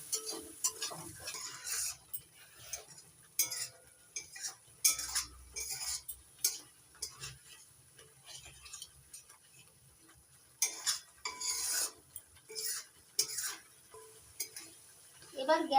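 Masala being sautéed in a pan with a little water added, heard as intermittent scraping and clinking of a spoon against the pan in uneven bursts over a low, quiet background.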